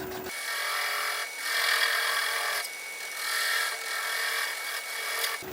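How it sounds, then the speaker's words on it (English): A wood lathe spins at about 400 RPM while a bowl is turned, giving a steady, fairly loud broadband rushing and rubbing with a faint whine. It runs continuously, swelling slightly in places, with no talk. "Lathe is spinning at about 400 RPM."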